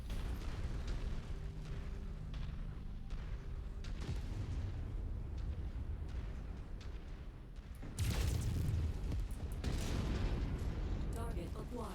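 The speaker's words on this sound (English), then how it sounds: "listen to the sound of the LBX firing and watch his center torso explode" LBX autocannon fire and a mech's center torso exploding in a video game, dense booming blasts and bursts over background game noise, with a sharp heavy explosion partway through.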